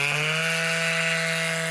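A tiny rechargeable air duster built from a small bicycle pump motor runs with a steady high-pitched electric whine and airy hiss, close and loud throughout, with no talking.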